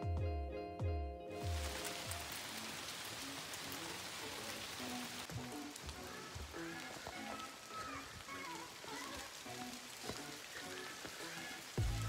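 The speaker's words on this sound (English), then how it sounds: "So it's the next day, but unfortunately it's raining" Rain falling outside, a steady wash of drops pattering on surfaces with scattered sharper drips, faint and continuous, after a brief musical tone at the start.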